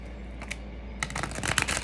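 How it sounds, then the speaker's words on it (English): A deck of playing cards being shuffled, a quiet riffle early on followed by a louder, denser burst of snapping card flutter in the second half, with no talking. "let me do a little shuffle"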